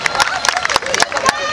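An audience at a youth talent show for under-13s claps and cheers, with a dense, steady patter of hand claps and raised voices lasting the whole short moment.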